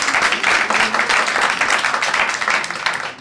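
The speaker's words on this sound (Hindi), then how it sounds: "अब सब अपने अपने लिए ताली बजाओ।" Schoolchildren in a class clapping for themselves, a loud, continuous patter of many hands close by, lasting the full stretch with a brief tail-off at the end.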